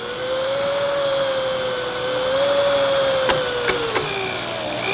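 A steady, whining drill boring a hole with a Miller dowel bit while assembling a sculpted wooden rocking chair runs continuously up close, its pitch holding level with slight wavering, joined near the end by a few sharp clicks.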